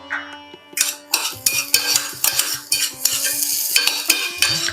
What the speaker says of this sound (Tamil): வெங்காயம் வதக்கிட்டு இருக்கும் போது